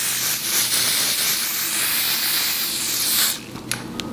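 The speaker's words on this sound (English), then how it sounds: "I'm just gonna go ahead and spray the forehead" A travel-size spray bottle mists across a person's forehead during a wig install, giving a sustained airy hiss that lasts about three seconds and is followed by faint handling noises.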